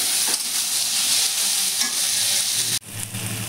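Tomatoes hit a pan of browned onions and green chilli, frying with a steady loud sizzle and scraping stirs, broken by a brief sharp dip before the hiss resumes.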